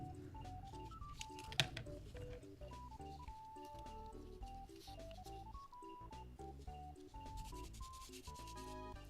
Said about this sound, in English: So we'll just keep sanding